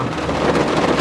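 Loud rumbling thunder rolling over steady rain, a dense continuous storm roar with no speech.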